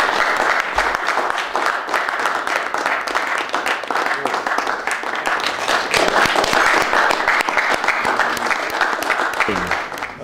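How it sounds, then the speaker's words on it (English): A crowd applauds at a golf event after a winning putt in a playoff, with loud, sustained, dense clapping throughout, voices mixed faintly beneath the steady roar of hands. "give him a round of applause"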